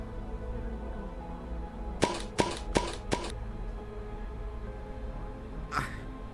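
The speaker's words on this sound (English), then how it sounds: "Is that a Pringles gun?" A toy Pringles gun fires four quick sharp clicking pops in a fast row, followed by a softer burst a few seconds later, close by in a quiet room.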